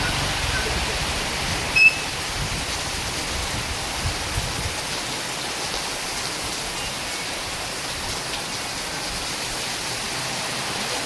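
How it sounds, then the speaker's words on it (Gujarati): Heavy rain pours down in Mudetha during Navratri, a dense, even hiss that stays steady from start to finish with a single brief knock near the start. No voices are heard. "કેટલા બધો વરસાદ પડે છે"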